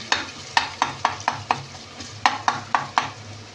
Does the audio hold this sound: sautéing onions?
yes